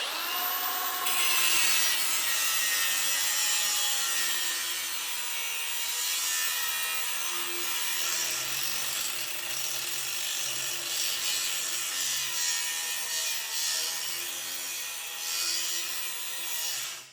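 Steady, close hand sawing through wood miters, a continuous rasping back-and-forth stroke that holds for about seventeen seconds before it stops, with nobody talking.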